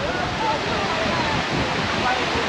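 The waterfall at Malham Cove in the Yorkshire Dales roars steadily as a dense, constant wash of falling water with some wind buffeting, heard from fairly close while people talk nearby.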